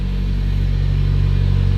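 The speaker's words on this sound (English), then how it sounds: "That literally starts better than my daily driver, and it's idling amazing." A Nissan 240SX engine, restarted after sitting for five years, idles steadily and smoothly nearby with a constant low rumble and no voices.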